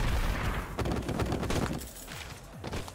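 Rapid bursts of cartoonish gunfire ring out in the Madness Combat video game, overlapping shots crackling loud and close over a thumping background.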